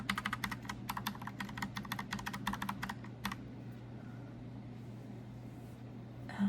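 Rapid, crisp clicks of a mechanical keyboard being typed on, a steady burst of keystrokes for a few seconds that then stops, leaving a quiet hum beneath.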